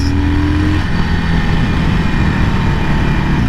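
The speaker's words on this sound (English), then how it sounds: "so I'm giving it some full throttle here" A 2020 Harley-Davidson Iron Sportster 1200 engine drones loudly at full throttle while riding, a continuous close-up roar with little variation.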